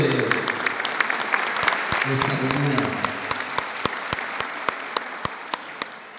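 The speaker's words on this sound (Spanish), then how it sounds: "Y un aplauso para los jóvenes talentos" At a 2019 graduation ceremony for final-year students at Liceo Violeta Parra Sandoval, a crowd applauds young talents. A speaker talks at the start over the steady clapping, and sharp individual claps ring out close by throughout.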